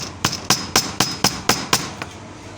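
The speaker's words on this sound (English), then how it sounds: "So you can hold on to our hammer," A hammer strikes a leather belt in an even, steady rhythm, eight sharp close taps about a quarter second apart, each with a short bright ring, with no talking.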